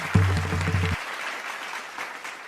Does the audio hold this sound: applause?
yes